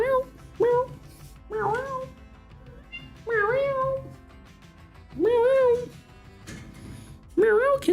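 A kitten meows about six times in short, rising-and-falling calls, spaced a second or two apart and close to the listener, with quiet gaps between them.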